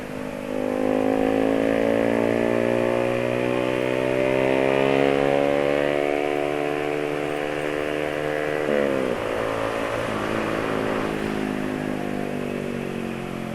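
A motorcycle engine revs up steadily, its pitch climbing over several seconds, then drops sharply and keeps idling at a lower, rough drone.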